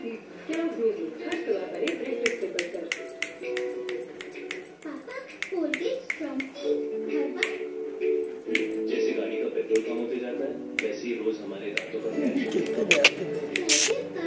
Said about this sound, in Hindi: मम्मी अम्मा चुटकी देख रहे